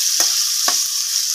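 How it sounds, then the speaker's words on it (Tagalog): Meat browns in a frying pan with a steady, close sizzle, broken by three short scrapes as it is stirred. "So-brown na to itong karne mga guys para mulasa siya."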